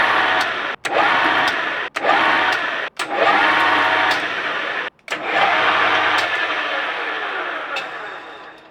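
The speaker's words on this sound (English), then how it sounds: "We can now fine-tune our lead screw to start and stop at breakneck speeds and always stop exactly at the shoulder without breaking my lathe." A lathe with an automated lead screw runs in a steady whirring whine, broken by several abrupt stops and restarts as the carriage halts, heard up close.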